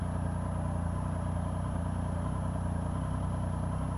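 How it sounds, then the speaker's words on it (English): A Triumph Speed Triple 1050 motorcycle engine runs at walking pace with a steady, relaxed low rumble, unrevved and even, heard close and moderately quiet with no talk. "So listening to that engine, it's not fighting for anything, it's happy, it's not revving, it's a happy engine"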